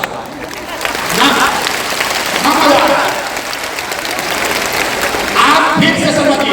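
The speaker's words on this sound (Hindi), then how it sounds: "अगर बुझाता तो ताली जोर से बजता ना" Loud, sustained applause from a crowd of women at a public meeting, a dense wash of clapping with voices rising through it.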